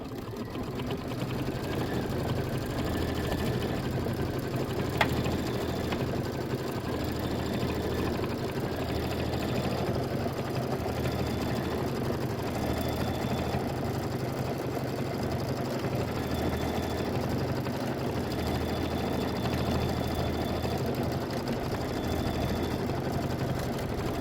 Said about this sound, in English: I'm going to go ahead and hit start. It's doing the quilting stitch.